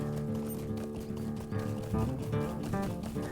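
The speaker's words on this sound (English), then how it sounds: "Now that's one thing when you're traveling on your horse." Horse hooves clop steadily while riding through Lord of the Rings Online, a continuous galloping rhythm mixed under the game's layered music and ambience.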